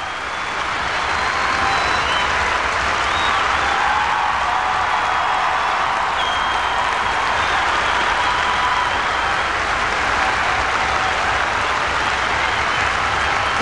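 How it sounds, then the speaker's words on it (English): An ice dance arena crowd at the World Championships applauds and cheers in a long, dense, steady roar of clapping that swells in after the first second and stays loud throughout. "Given the absolute frenzy of this crowd"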